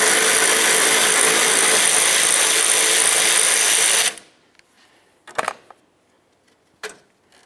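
A 10mm socket tool works a radiator support bolt on a 2007-2012 Nissan Sentra. It gives a loud, continuous whirring burst for about four seconds, then cuts to near-silence broken by two brief metallic clicks.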